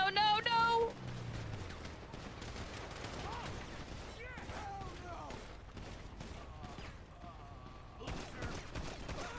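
Enemy gunfire breaks out in a game, a loud burst up front followed by scattered, rapid shots and clatter that continue through the scene while a voice talks over it.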